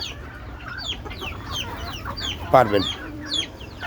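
Desi chickens about eighty days old, kept on a rooftop, cluck and chirp softly through the whole stretch, with one louder, nearer squawk in the middle and a brief spoken word under the flock.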